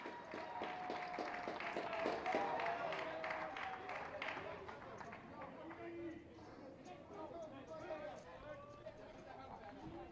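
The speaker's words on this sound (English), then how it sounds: "Those applause you hear are the Peterson family in the background" A small family cluster clapping and cheering from the stands at a high school baseball game, scattered claps heard at a distance under nearby commentary and crowd chatter.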